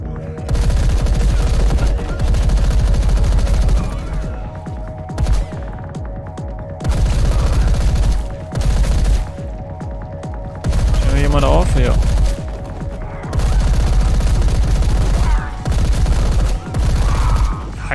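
Gunfire in the video game Paint the Town Red comes as repeated loud bursts of rapid shots separated by short pauses, with a steady hum underneath and a player speaking at times.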